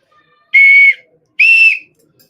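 Two short, shrill notes, la and mi, on a two-note scout whistle, one after another with a brief gap, the second pitched a little higher. Loud and close, with silence around them.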